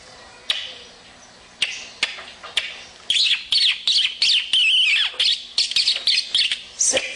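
A person imitates the call of a dome-ré bird with sharp clicks followed by a rapid run of high, squeaky chirps and squawks, close and unaccompanied.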